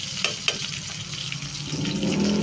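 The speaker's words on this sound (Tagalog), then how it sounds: "Pritong tilapia." Tilapia fish frying in a pan, a steady sizzle with a couple of sharp pops early on, growing louder and denser toward the end, close up with no talking.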